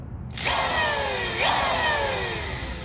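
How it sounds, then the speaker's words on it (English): A power drill bores up into the cross member of an OBS Chevy 4x4 Tahoe, its whine starting abruptly, steady and loud, then rising in pitch midway as the bit bites into the metal, running on alone for the rest of the clip. "basically just drilled up into that cross member"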